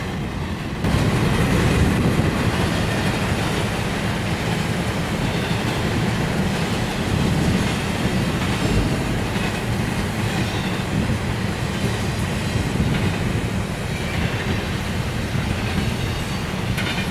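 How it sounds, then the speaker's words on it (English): A westbound Norfolk Southern intermodal freight train rolls past at Berea, Ohio, a steady loud rumble and rattle of wheels on rails that holds for the full stretch with no talk. "This is a westbound Norfolk Southern intermodal train."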